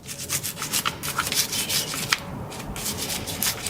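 Close, rhythmic scrubbing with a stiff brush on a Mikuni carburetor, quick back-and-forth bristle strokes rasping against a hard surface, with a brief pause partway through.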